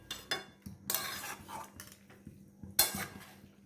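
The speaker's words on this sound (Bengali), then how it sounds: "এবার নেড়ে নেব খুন্তি দিয়ে।" A spatula stirs a coconut and jaggery filling for rasaraj pitha in a pan, giving a few quiet scraping strokes and light metallic clinks spaced irregularly, close and soft with no talking.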